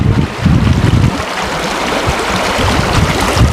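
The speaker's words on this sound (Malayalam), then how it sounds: "വെള്ളത്തിൻ്റെ ഒരു ഒഴുക്കം, ആ സൗണ്ടൊക്കെ കേൾക്കാൻ തന്നെ നല്ല ഭംഗി." Stream water flowing at Dovedale nature reserve in the UK, a close continuous rushing gurgle with low rumbling wind buffeting the microphone.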